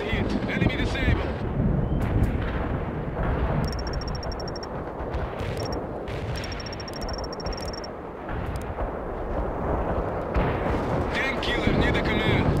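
Tank hunter weapons firing with heavy explosions in the World in Conflict strategy game, dense booming blasts and rumble throughout, with radio-style unit voice lines and electronic beeps layered over the battle.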